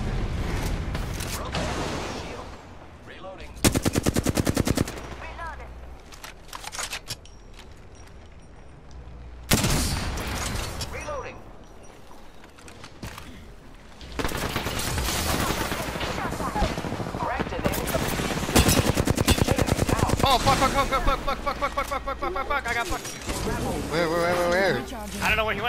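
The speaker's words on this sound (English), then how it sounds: "I think they're getting shot at by another team." Bursts of video-game gunfire from an enemy squad in a battle royale match, with loud rapid automatic volleys and sustained stretches of shooting, heard alongside player voice chat.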